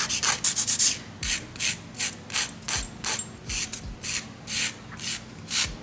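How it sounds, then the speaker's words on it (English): Rhythmic scraping strokes of a nail file on press-on nails, a rapid burst followed by slower, evenly spaced rasping passes, close and crisp. "I'm going to file and buff them"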